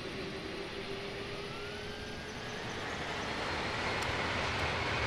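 Airplane engine spooling up to full takeoff power in Microsoft Flight Simulator 2024, a steady broadband roar that builds slightly in loudness over several seconds with a faint rising whine, no talk.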